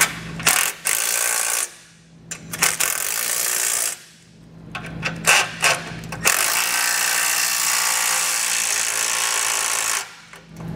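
A power tool with a socket snugs down the bolts of a Roadmaster Direct-Connect base plate kit on a 2020 vehicle, running in several whirring bursts of varying length that are broken by brief pauses.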